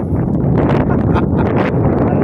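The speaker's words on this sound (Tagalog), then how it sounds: "lakas ng hangin" Strong wind roars steadily across the microphone, a continuous loud buffeting rumble with no speech.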